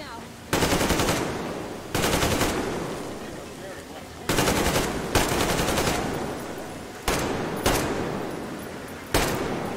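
Bursts of automatic gunfire from weapons in the video game Metro Exodus, six loud rapid volleys spaced a second or two apart, each decaying into a short echo.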